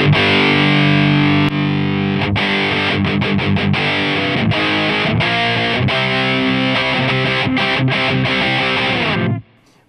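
Electric guitar with heavy distortion running through a Fat Blob Suprême compressor pedal, sustained chords with short rhythmic breaks, loud and steady before cutting off abruptly near the end, no voices.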